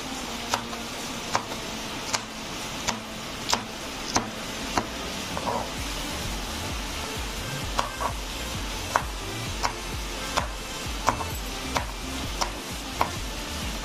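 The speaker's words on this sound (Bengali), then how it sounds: "সবগুলো ঢ্যাঁড়স আমি কেটে নিলাম" A knife chops ripe okra on a board, giving about a dozen and a half crisp, evenly spaced taps at a steady rhythm, close and clear over a low background hum, with no talking.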